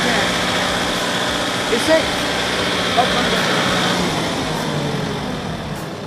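A Kubota 5502 4x4 tractor engine gives a steady hum with a low mechanical drone and faint vibration, running evenly throughout, with a brief voice partway through.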